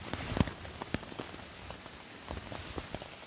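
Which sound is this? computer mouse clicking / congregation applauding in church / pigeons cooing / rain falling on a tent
rain falling on a tent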